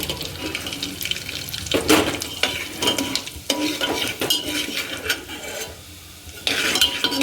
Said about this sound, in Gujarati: જો ઘીમાં ગરમ થઈ જાય એટલે આપણે જો આ જીરું નાખી દીધું